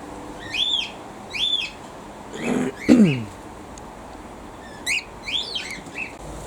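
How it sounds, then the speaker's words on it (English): Magpies squawk and chirp in short bursts, a few harsh calls close by with a louder raspy cry in the middle, over quiet background noise. "Squawky, squawky birds."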